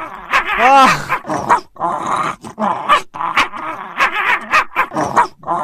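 A dog in the video game Dog Simulator 2014 growls and barks aggressively, loud and close, in a rapid series of snarls and sharp barks that run almost continuously.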